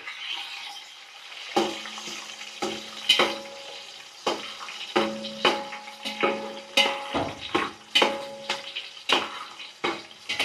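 Onions fry in hot oil in a home kitchen, loud sizzling bursts rising and falling in a repeating rhythm as the pan is stirred, close up with no talking.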